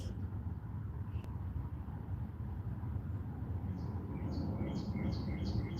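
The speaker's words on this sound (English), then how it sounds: "Y'all hear the birds?" Small birds chirp outdoors, faint rapid tweets entering in the last couple of seconds over a low, steady background rumble.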